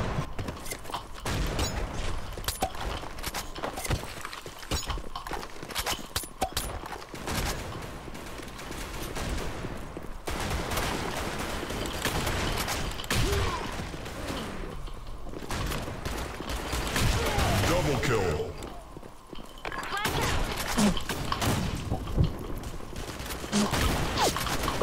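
Continuous shooter video game gunfire, rapid automatic bursts and booming shots layered over mechanical clatter, loud and dense throughout with only brief lulls.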